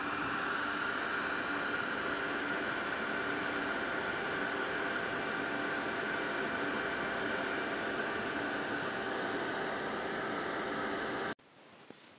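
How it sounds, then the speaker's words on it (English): A heat gun blows hot air to melt embossing powder for gilding craft embellishments, a steady roaring whoosh held for about eleven seconds before it shuts off abruptly. "Back out with the heat gun."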